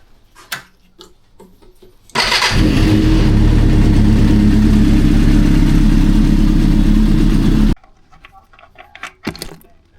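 Suzuki GSXR 400 motorcycle engine warming up, starting abruptly and idling loud and close in a steady, slightly rough drone for several seconds before cutting off, with clanks and tool handling before and after.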